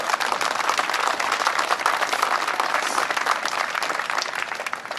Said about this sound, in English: a big round of applause for all the love they've shown her